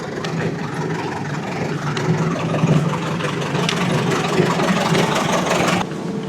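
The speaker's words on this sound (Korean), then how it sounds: "트랙터" A tractor idles on a mountain road near road construction at Tiger Leaping Gorge in Yunnan, its engine giving a steady, close mechanical rumble with no speech over it.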